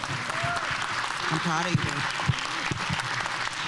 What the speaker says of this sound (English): Please, let's keep another round of applause, please.